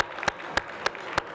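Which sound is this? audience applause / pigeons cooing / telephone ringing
audience applause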